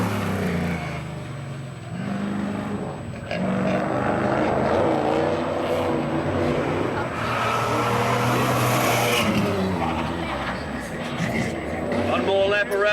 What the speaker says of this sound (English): Here comes the 5 Series